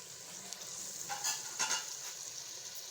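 Soft, steady sizzling of garlic frying in ghee in a pan, with a few brief stirring scrapes, close and fairly quiet.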